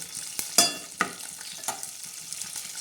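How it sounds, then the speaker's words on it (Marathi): Cumin seeds with curry leaves tempering in hot oil as a tadka for moong dal, a soft steady sizzle broken by a few sharp crackles and pops near the start. "आता याला चांगला असा तडका देऊया"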